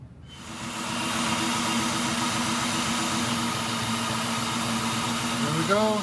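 A Cobra car's engine catches and settles into a steady, even idle after an oil cooler repair, a close, continuous mid-pitched hum with a faint whine near the end.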